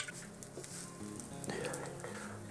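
Bread grilling in olive oil in a frying pan sizzles softly and steadily, with light pattering crackles and occasional faint scraping of a utensil close by.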